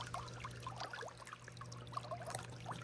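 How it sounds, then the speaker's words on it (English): A swimming pool pump keeps water circulating ahead of freezing weather, heard as a steady low hum beneath continuous close trickling and pouring water with small splashy bursts throughout. "I will simply run the pump during threats of freezing weather. This keeps the water circulating and will prevent busted PVC pipes."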